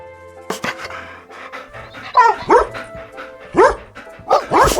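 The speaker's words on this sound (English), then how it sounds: "Dog." A dog on a farm gives a rapid run of barks and yips mixed with panting, several short close bursts spread across the clip with no voices.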